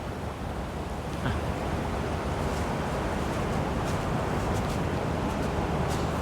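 A steady, dense roar of rushing water from a waterfall in a Bangkok sky garden fills the scene without pause, broad and constant, with no voices above it.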